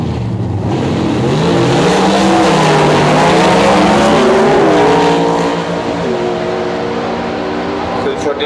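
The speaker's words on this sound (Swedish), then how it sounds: "Den stora Pontiac Star Chiefen i vänster fil är alltid lika uppseende veckan" A large Pontiac Star Chief runs on a race track at Tullinge, its engine droning and shifting pitch as it revs past, loud and close, joined briefly by other cars.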